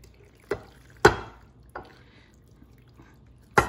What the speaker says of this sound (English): I'm going to pour this in my baking dish